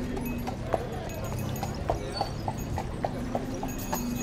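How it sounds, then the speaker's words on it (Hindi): A horse's hooves clip-clop on the street of an old walled city in Malta, near a tourist area with horse-drawn carriages, in a steady walking rhythm over a murmur of crowd and street noise. "ये देखो एक घोड़ा यहाँ से आ रहा है।"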